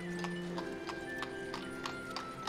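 Draft horse hooves clip-clop in a steady, even rhythm in the Ostriv village-building game, soft and regular over a constant low background hum and tones.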